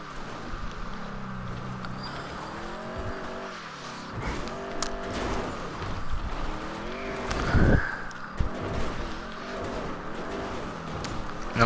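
Game car drifting through a GTA 5 Online stunt race, the engine droning and revving with shifting pitch while tires squeal through the slide, peaking in a harsh scrape midway; close and continuous, no talking.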